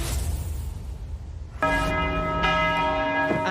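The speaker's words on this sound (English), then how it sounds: "At St. Patrick Basilica, the bell rings." A church bell rings at St. Patrick Basilica in Ottawa, its tone entering abruptly after a stretch of low background rumble and then struck again, ringing loud and sustained.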